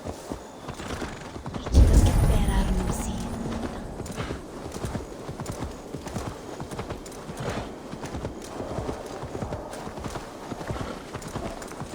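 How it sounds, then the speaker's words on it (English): Horses in the Assassin's Creed Valhalla video game whinny loudly once near the start, then hooves clip-clop steadily and rhythmically at a walk over mechanical creaks for the rest. "The horses can feel it too. Neighing, rolling their eyes."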